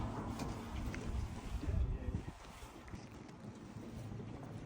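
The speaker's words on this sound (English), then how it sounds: "It's been windy and rainy all day." Wind gusts buffet the microphone in a small New Zealand town on a rainy day, a low rumbling roar that swells to a peak midway and then eases to a steadier blow.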